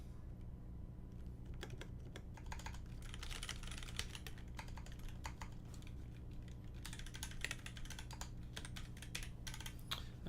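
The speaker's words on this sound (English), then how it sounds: "I'll do a little bit of touch typing and I'll show you guys." Rapid touch typing on a mechanical keyboard, a dense run of quick clicks and clacks with brief pauses, close and steady over a low hum.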